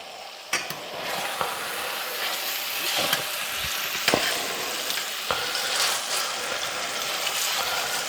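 Steak sizzling in a stainless steel pan with butter: a constant bright crackle with scattered sharp pops and spatters, close and fairly loud, no talking.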